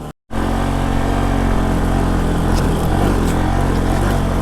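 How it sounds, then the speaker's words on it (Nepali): After a split second of silence, a motorcycle engine drones steadily up close, with rattling and knocks over a rough, bumpy unpaved road near Shivapuri National Park, Kathmandu. "बाइकमा के साउन्ड आइरहेको"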